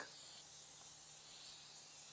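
Olive oil spray misted onto a barbecue grill before cooking jerk fish, a steady close hiss lasting the whole moment with no talking.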